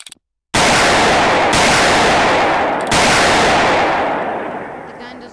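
Loud, close gunfire in a video game: a burst of shots after a brief silence, with sharp retriggers around two points, sustained and booming before slowly fading.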